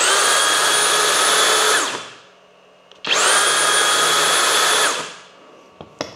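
A Flex right-angle drill, the full-size 2-gear model, in turbo mode, whines loudly in two steady bursts of about two seconds each, spinning up and winding down between them, with small clicks at the end.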